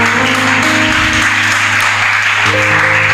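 A church congregation applauds and acclaims the Lord with steady, loud, continuous clapping that fills the room over sustained organ or keyboard chords.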